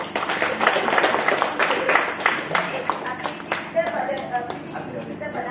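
A secondary school class applauds students with lively, dense clapping from many hands, close by and tapering into scattered claps as a teacher speaks over it.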